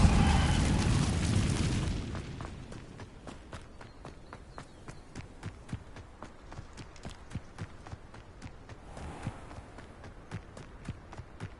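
An Incendio fire spell in Hogwarts Legacy opens with a loud, roaring burst of flame for about two seconds, then fades into a run of quick, regular footstep-like clicks.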